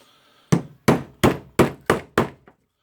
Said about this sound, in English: Just hit it with the head and the hammer.